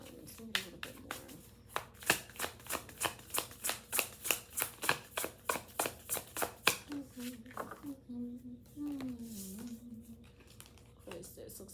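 Tarot cards being shuffled by hand, a steady run of about twenty crisp riffling slaps in close succession, then quieter card handling as a voice talks over it.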